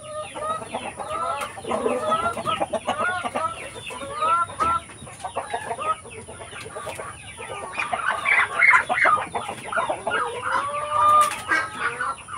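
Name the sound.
chickens clucking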